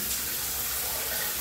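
Water from a shower runs steadily in a broad, even hiss, close and fairly loud, with no talk over it.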